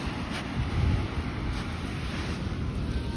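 Sea surf rolls onto a warm sandy beach at a resort in January, a steady rushing wash heavily buffeted by wind noise on the microphone, with no voices.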